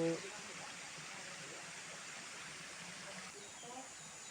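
A mountain stream flowing among green hills, a steady, faint broadband rush of water running continuously with no breaks, with a hint of voices at the very start.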